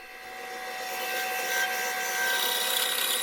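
A bandsaw cuts out pieces of scrap wood for a bat holder, giving a steady, close whining hum that swells slightly as the blade works through the wood, with no talk.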